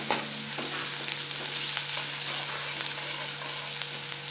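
Onion with masala fries lightly in a pan, giving a steady, even sizzle throughout with faint stirring scrapes and a soft click near the start.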